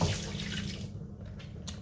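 Hot water runs from an apartment kitchen tap, a steady close rushing stream that carries on throughout without voices.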